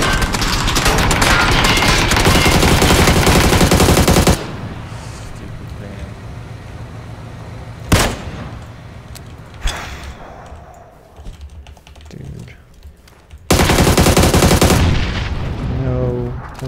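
Sustained bursts of AUG rifle fire in a video game, loud and dense, open and close the stretch, with single sharp shots in the quieter middle; players talk over it.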